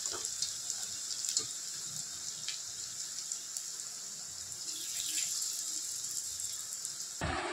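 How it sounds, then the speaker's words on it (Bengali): Lentil fritters are dropped one by one into hot oil in a wok, giving a steady, close, bright sizzling hiss that carries on without a break and with no talking. "এই যে বড়া এক এক করে ছেড়ে দিচ্ছি কড়াইয়ের মধ্যে"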